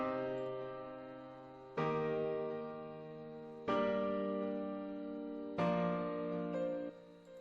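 Four sustained chords, left unprocessed in a mix, ring out one after another, each hit sharply and then slowly decaying at a quiet, even level, with no voices.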